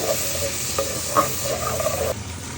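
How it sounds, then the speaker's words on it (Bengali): Spice paste of coriander and cumin with a splash of water stirred and frying in a pan, a steady close sizzle with scraping strokes of the spoon throughout, no talking. "মশলাটা সুন্দর করে কষিয়ে নেব।"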